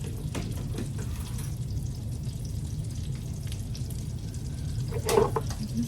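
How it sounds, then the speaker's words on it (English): A pot of liquid coming to the boil while being stirred, making a steady low bubbling hiss with a brief clink and stir near the end, close and moderately loud. "Just a little bit of a stir. It's starting to boil there."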